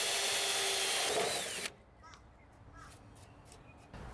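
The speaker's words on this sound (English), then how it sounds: "Then I took each segment and I drilled a hole in the ends of each one" A power drill whines loudly and steadily as it bores holes into the ends of wooden arc segments, then stops abruptly, leaving quiet room tone with faint bird calls and a few small knocks.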